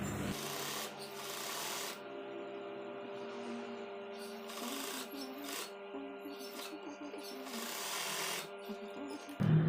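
Sewing machine stitches a side pocket on a koko shirt in several quiet bursts, with a soft mechanical whirr that starts and stops repeatedly and short near-silent pauses between runs.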